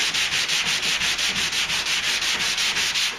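Sanding by hand or block on old single-stage white paint on a GMC Sierra tailgate, using a coarser grit than 180; a steady, loud, rhythmic rasping scrub with regular strokes repeating about every quarter second, with no talking.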